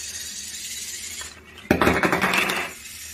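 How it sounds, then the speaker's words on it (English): Vex IQ robot's single-motor unloading mechanism releasing green cubes into a bin: a sudden clattering burst of plastic cubes tumbling out, busy and close for about a second, then settling to quiet. "and the green cubes are released"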